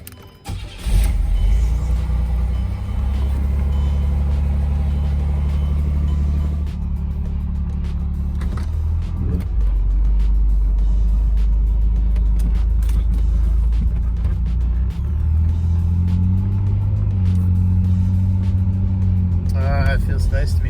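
A 1987 Pontiac Fiero GT, back on the road after sitting for 15 years, runs steadily while driving, its low engine drone continuous throughout with creaks and mechanical rattles over it and a person talking intermittently.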